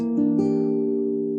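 A diminished guitar chord is strummed twice in quick succession, then rings out and sustains, close and clear with no voices.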